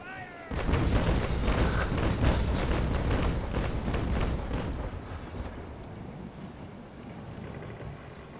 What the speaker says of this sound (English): So what I usually like to do at the end of a battle is to fire both broadsides at the same time